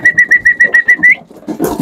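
A rapid series of eight short, bright whistled calls in even rhythm, followed by a brief burst of pigeons fluttering.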